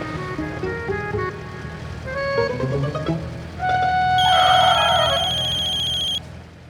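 A mobile phone ringtone plays loud and close: a melodic electronic tune that builds up and then holds a bright, sustained ringing pattern before cutting off.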